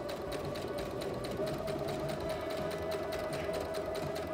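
A sewing machine runs steadily as it stitches fabric, a close, even whirr with a fast, regular needle clatter throughout and no voices.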